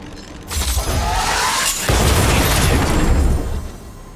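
Automaton stealth bomb detonating in Honkai Star Rail: a sudden loud burst with shattering, crackling debris that holds as a dense rumbling wash for a few seconds before tailing off.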